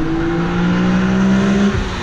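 BMW M Roadster inline-six fitted with a Remus exhaust revs loudly and steadily, holding a high engine note before dropping off near the end, close and alone.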